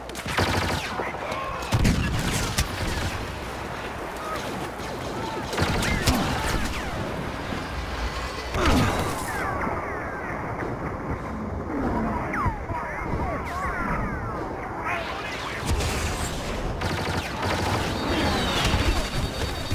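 Blaster gunfire crackles through a Star Wars Battlefront Walker Assault battle on Sorosuub Centroplex, dense and continuous over roaring vehicles and explosions, with brief voices in the mix.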